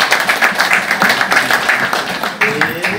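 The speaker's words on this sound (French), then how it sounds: "Je pensais que vous alliez applaudir quand même." An audience applauds with dense, continuous clapping at fairly close range during a televised education results announcement, the patter steady and loud throughout.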